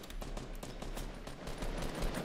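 Rapid automatic gunfire from a Fortnite squads match crackles in a dense, continuous burst of shots, steady and fairly loud throughout, with no talking over it.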